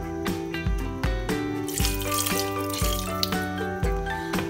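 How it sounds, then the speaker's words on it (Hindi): About a cup of water poured from close by into meat in a cooking pot, a running, splashing stream heard under rhythmic background music. "तो इसमें तकरीबन आपने एक कप पानी डाल देना है"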